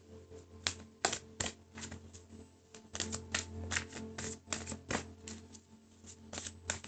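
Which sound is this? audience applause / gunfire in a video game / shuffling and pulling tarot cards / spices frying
shuffling and pulling tarot cards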